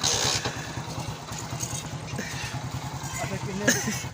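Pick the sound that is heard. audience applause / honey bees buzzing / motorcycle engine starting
motorcycle engine starting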